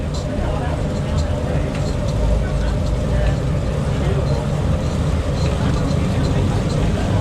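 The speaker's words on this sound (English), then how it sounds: "this whole building is just moving. Listen to those stones." Historic water-wheel-driven millstones grinding corn into cornmeal in a mill building fed by a huge overshot wheel, giving a loud, steady low rumble and grinding roar throughout, with people talking faintly underneath.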